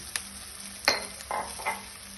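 Veg bytes sautéing in a pan with chili powder, turmeric, coriander powder and garam masala: a few short stirring scrapes and clinks over a soft, quiet sizzle.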